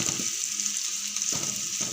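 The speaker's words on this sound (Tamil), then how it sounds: "இது நல்லா ஸ்லோ குக்கிங்கில் தான் எப்பயும் வதக்கணும்." Prawns sauté slowly over gentle heat in a pan, giving a soft, steady sizzle with faint stirring scrapes, close by and without talk.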